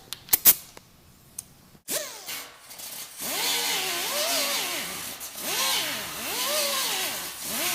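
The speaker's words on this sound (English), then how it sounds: "I'm going to get that with the grinder to help get that out" An angle grinder works on a car's steel body panel during dent repair, grinding out a small spot: a few sharp clicks, then a loud, steady grinding whine that rises and falls in pitch as the tool presses and eases.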